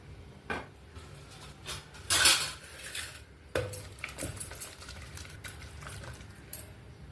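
Cooked eggplant, onion and tomato are gently mashed in a pan, with soft irregular clinks and scrapes of a utensil against the vessel, some louder knocks, and a faint wet squish, fairly quiet overall.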